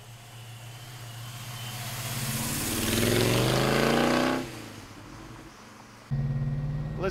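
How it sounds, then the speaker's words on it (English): A 1970 Chevrolet Chevelle with a big-block engine and four-speed passes by, its engine note swelling loud and close around the midpoint, then fading, followed by a steady idle rumble. "Let's take a Chevelle for a ride."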